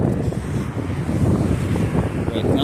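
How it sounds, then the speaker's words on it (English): Strong night wind outdoors in Fakriya near Dammam buffets the microphone in a continuous, loud, rumbling roar with gusty surges and no voices. "Right now it's really windy, guys"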